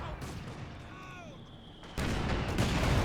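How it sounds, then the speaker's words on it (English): Grenade blasts in a war video game, a muffled boom with whistling debris, then a sudden loud burst of explosive noise that holds steady at close range. "Throwing multiple RPG grenades there."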